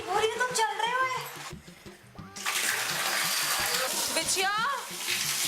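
Water gushes steadily from a tap, filling a tub to the brim, loud and continuous beneath excited talking voices.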